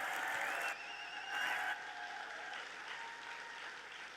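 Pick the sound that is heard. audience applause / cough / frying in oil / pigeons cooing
audience applause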